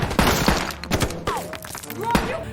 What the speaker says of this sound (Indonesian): tiba-tiba saja sebuah tembakan langsung melesat dan membuat tim Billy langsung berusaha mundur